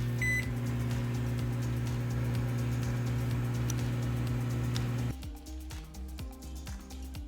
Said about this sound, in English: Stick that in the microwave.